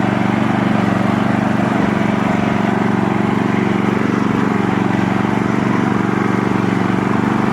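A homemade mini tractor with small wheels rolls slowly across a field, its small engine droning steadily and loudly near at hand from start to finish.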